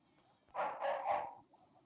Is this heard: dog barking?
yes